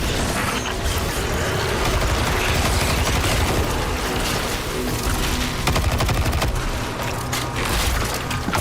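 Dense video-game gunfire, including pistol shots, fills a firefight on the planet Nessus in Destiny, a loud continuous barrage of shots, impacts and explosions running without pause.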